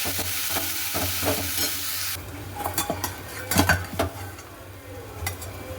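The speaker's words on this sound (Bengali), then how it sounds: "এদিকে তেল গরম হয়ে গেছে মাছ ভাজাটা বসিয়ে দিই" Fish heads fry in hot oil in a pan, a dense, loud sizzle at first that thins out, with sharp clinks and scrapes of a spatula against the pan, no voices.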